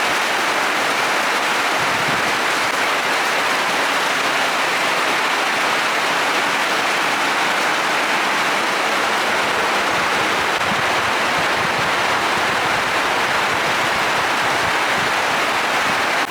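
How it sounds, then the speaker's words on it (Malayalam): Heavy rain pours down steadily outside, a dense, unbroken roar of falling water that stays loud and even throughout. "വെളിയിലുള്ള സൂപ്പർ മഴ കേട്ടോ"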